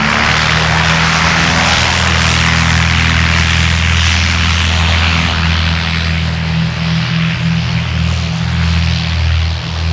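A propeller tow plane idles loud and steady with an L-23 Blanik glider hitched behind it on the airfield, its engine drone constant and close throughout with a low hum and no voices.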